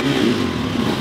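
A 4-stroke hard enduro motorcycle engine runs at a hard enduro race start line, giving a brief, steady, loud rumbling burble close by with no speech.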